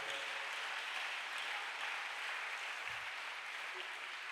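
A church congregation applauds at a praise and worship service. The clapping is dense and continuous, a steady wash of many hands with no breaks.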